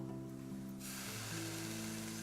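Liquid hits a hot pan and bursts into a steady hiss of sizzling, layered over a low tonal drone, with no talking.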